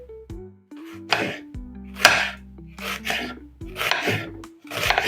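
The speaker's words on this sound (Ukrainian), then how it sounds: "Нам ще додатково потрібна буде одна велика цибуля. Зараз її теж будемо нарізати. Нарізаємо півкільцями." A knife cuts a large onion into half rings on a board, a series of crisp crunching slices in an uneven rhythm, close up, over faint background music with no voices.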